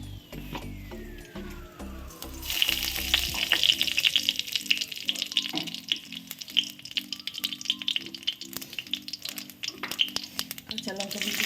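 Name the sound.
black cumin seeds tempering in hot oil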